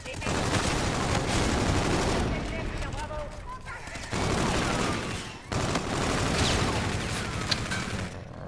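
Continuous shooter video game gunfire with a pump shotgun among the weapons, dense overlapping shots and bursts filling nearly the whole stretch with only brief dips, loud and close, with no voices.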